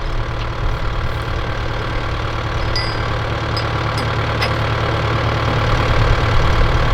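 A farm tractor's engine idles steadily and close by while its bucket is raised to pull a post, a low continuous rumble that swells slightly toward the end, with a few faint metallic clinks.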